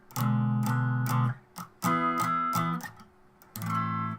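Guitar strums through a short chord progression of several sustained chords with brief gaps between them, clear and close with no talking.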